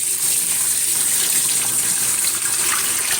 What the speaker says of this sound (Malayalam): അപ്പം നമ്മൾ ഇതിലോട്ട് തണുത്ത വെള്ളം ഒഴിക്കുന്നത്.